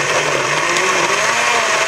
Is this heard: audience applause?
no